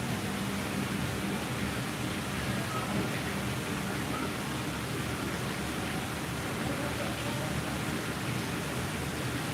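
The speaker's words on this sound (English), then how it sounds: "Because it is still raining." Rain falls steadily at Disney Springs, a dense continuous hiss of drops filling the air at an even, loud level with no break throughout.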